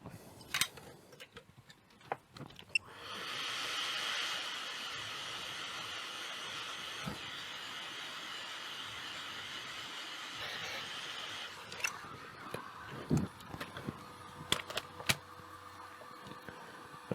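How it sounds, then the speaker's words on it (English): A heat gun blows onto the CPU of an AMD Lenovo Legion laptop: a steady, close hiss starts after a few seconds of quiet, runs for about nine seconds and stops, followed by scattered light clicks and taps. "I'm going to heat up the CPU with my heat gun for a little bit, just get it nice and hot"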